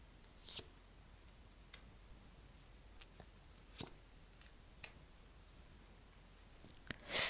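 Tarot cards are drawn and handled for a reading in a quiet room, making a handful of faint, brief flicks and soft slides spaced a second or two apart, ending with a slightly louder shuffle.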